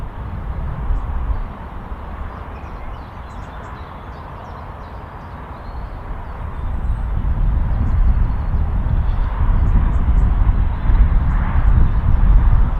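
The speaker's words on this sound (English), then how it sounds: "BA just taxiing out over there." A British Airways airliner taxis out at Manchester Airport, heard as a distant, steady jet engine roar with broadband wind noise that swells slightly over the clip, with no speech.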